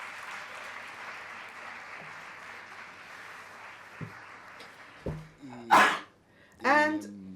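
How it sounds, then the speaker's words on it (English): A crowd applauds steadily at an exhibition presentation, then the clapping fades and a dog gives a couple of sharp yips nearby. "We hear applause."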